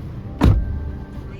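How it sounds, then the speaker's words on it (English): A Honda WR-V RS car door swings shut with a single solid thump, close and fairly loud, followed by a quiet interior hum. "Now let's close the door."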